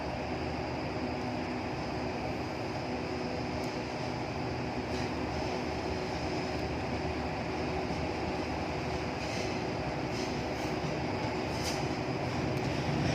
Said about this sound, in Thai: 407ก็กำลังจะเคลื่อนเข้าในชานชลาที่2ครับ เป็นรถดีเซลรางนะครับ